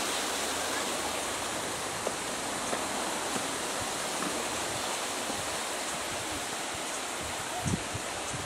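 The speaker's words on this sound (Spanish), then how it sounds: "¡Agua!" Steady rushing water, like a stream or small waterfall, at a farm in Higashi Chichibu, a continuous broad hiss with a few faint knocks and no talk.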